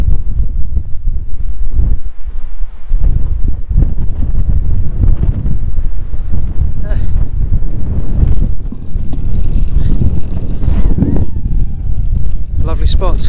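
Strong wind gusting at West Beach, Littlehampton, a loud continuous buffeting roar across the microphone, with someone talking in places.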